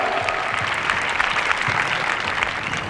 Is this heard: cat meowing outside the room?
no